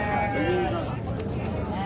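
Sheep bleat amid a busy crowd at a livestock market in Yozyovon, Fergana region, a wavering bleat rising over constant chatter and background noise.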